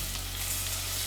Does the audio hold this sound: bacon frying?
yes